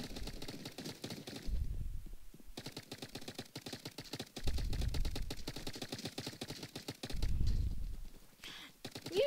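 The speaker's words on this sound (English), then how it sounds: "Now they're using the minigun." Minigun firing in the Roblox game Big Paintball 2: rapid, continuous rattling bursts of fire with brief pauses between, mixed with deeper whooshing thumps, fairly quiet overall.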